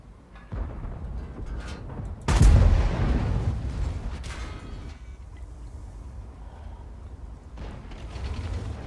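A German Tier X heavy tank, the Panzer 7, fires an APCR shell from its cannon in World of Tanks. One heavy boom lands near the middle and is followed by a lingering rumble and mechanical clatter, with no voices.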